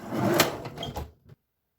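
A Craftsman toolbox bottom drawer slides shut with a rumbling roll, ending in a short knock as it closes, then silence.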